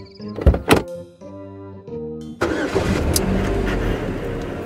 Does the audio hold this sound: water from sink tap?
no